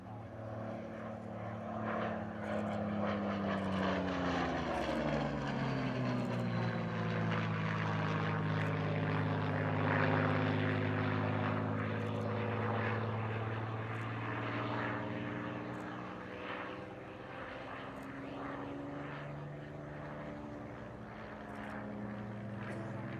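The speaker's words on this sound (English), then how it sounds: "Very special aircraft. It was the last Hurricane to be built, rolling off the Hawker production line at Langley." A Hawker Hurricane, the last one built at Langley, passes at an air display, its propeller engine droning loudly with a rising and falling pitch as it sweeps by, fading slowly afterward.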